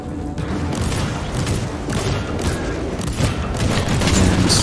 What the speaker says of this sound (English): Alright, a grenade in there.